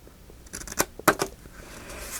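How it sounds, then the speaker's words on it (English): Small scissors snip paper at an angle while a vintage recipe pocket is being crafted, making a few sharp, quiet crisp clicks and cuts close up, with no voices. "Little scissors. Okay, angle cut here"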